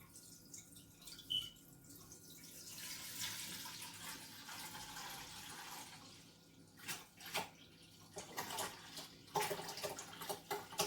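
Jamaican sorrel drink poured through a straining bag, a faint trickling and dripping of liquid with intermittent splashes, quiet and close with no talking.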